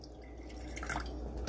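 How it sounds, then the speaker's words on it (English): Water trickles into a bowl of Aunt Jemima pancake mix, a brief quiet pour with a few small dripping splashes over a low background hum. "first thing you do is add a little bit of water"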